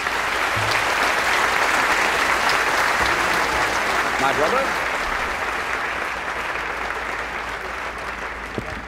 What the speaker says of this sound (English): Let's have a nice round of applause for all of our medalists.